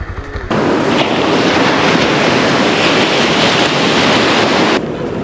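Ocean surf at Kozhikode beach, a continuous loud roar of breaking waves mixed with wind buffeting the microphone, starting abruptly and holding steady for several seconds before easing off.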